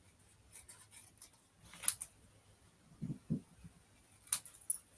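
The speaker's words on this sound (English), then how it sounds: "So I'm going to use my snips to just cut around these." Snips cutting around a paper parcel shape for stamped card crafting, heard as a few quiet, sparse snips and crisp paper rustles close by.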